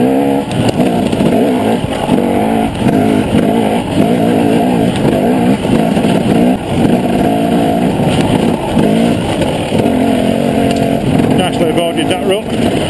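Steady engine of a vehicle chugging along in second gear on a rutted forest trail with tree roots, a continuous close drone with rough low pulses and bumps throughout.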